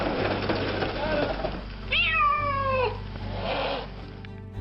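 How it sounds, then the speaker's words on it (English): A cat meows loudly during a rescue, giving a long drawn-out yowl close by, with rescuers talking before and after it. "We get the cat down safely"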